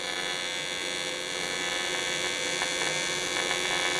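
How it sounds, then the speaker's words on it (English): Cast aluminum being TIG welded with 3/32 filler rod, giving a steady, loud electrical buzz and hum that runs unbroken through the whole stretch with no talking. "So this is the 3/32 filler. We'll just weld in some circles, flood it in."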